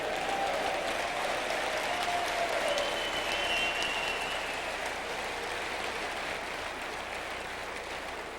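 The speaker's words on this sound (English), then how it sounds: "we can give God a good hand clap offering" A church congregation gives sustained hand-clapping applause, a thick, even roar of many clapping hands that holds steady throughout, slightly easing toward the end, with faint voices mixed in.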